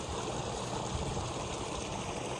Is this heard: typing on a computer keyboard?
no